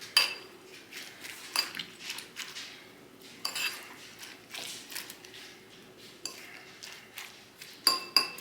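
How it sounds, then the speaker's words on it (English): Eggs stirred with chopped vegetables in a bowl for Korean street toast, a utensil scraping and clinking against the bowl in irregular close strokes, no talking. "we're just going to mix that around and get all of the eggs incorporated, all of the egg incorporated with the veggies"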